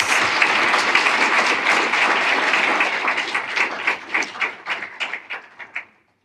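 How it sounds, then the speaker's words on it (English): A lecture audience applauds steadily, then the clapping thins into scattered individual claps before stopping. "Let's give them a round of applause."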